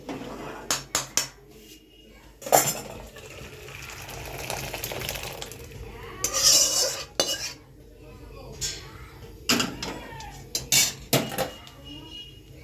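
A ladle clanks and scrapes in a pot as cooked mung dal is mashed, giving irregular metallic knocks and stirring over a faint background.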